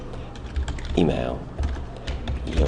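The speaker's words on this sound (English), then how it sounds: "Forgive my bad typing today" Quick bursts of typing on a computer keyboard, pressed with taped, injured fingers, clatter at close range beneath a person talking, with short pauses between runs of keystrokes.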